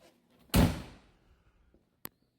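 A car door on an older Ford Mustang GT Foxbody with worn door pin bushings shuts with a single solid thunk nearby, followed by a short sharp click a moment later in an otherwise quiet space.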